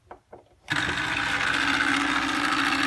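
A small submersible water pump, just cleaned, switches on after a few soft knocks and runs loud and steady with a harsh rattling, clanking buzz that continues to the end.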